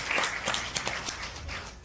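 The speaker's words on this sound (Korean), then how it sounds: "한 분 한 분 소개할 때마다 큰 박수 부탁드리겠습니다" Audience applause breaks out in a row of short clapping bursts as local council members are introduced one by one at a launch ceremony for a barefoot-walking club in Sangju.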